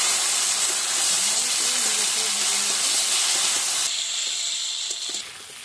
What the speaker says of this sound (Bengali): এবার আমি সেই ভাপ দিয়ে মেটে আলুটা দিয়ে দিচ্ছি।